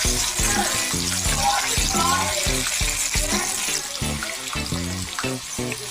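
Coated potato twister frying in hot oil, a loud, close, continuous sizzle and bubbling with crackling pops, steady throughout.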